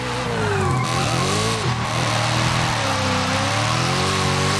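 Car drifting with the handbrake in the racing game Forza Horizon 5, a loud continuous engine drone rising and falling in pitch with tires squealing through the slide, no voices.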